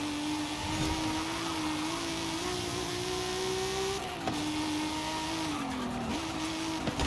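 Datsun 240Z in Forza Horizon 5 droning steadily under acceleration, its engine pitch rising then dipping at slow gear changes, a continuous moderate game engine tone with no talk.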